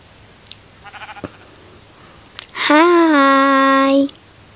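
A Minecraft sheep bleats once, a loud, close, wavering call of about a second and a half, preceded by a few soft game clicks and a faint voice.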